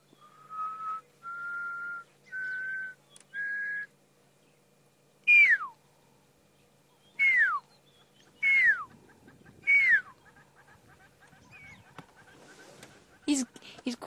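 A pearl-spotted owlet calls back during a sunset safari drive, a run of steady whistled notes followed by several loud descending whistles at regular intervals, clear against a quiet background.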